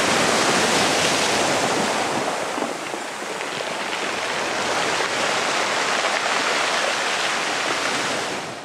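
Crisp waves wash over a Shetland beach of well-rounded pebbles, tumbling the stones in a continuous, loud roar of surf with no pause and no voices.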